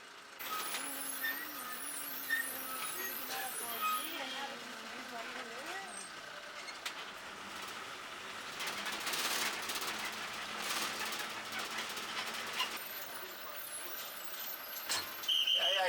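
Heavy afternoon traffic crawling up the hill road to Yercaud, with trucks and cars idling and grinding nearby, a hiss of air brakes and occasional horns, under people talking.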